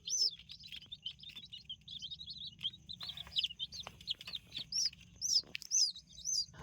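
Baby chicks peep in a heated brooder warmed by a 25-watt lamp, a run of high, quick chirps at close range over a low steady hum, growing louder and more frequent toward the end.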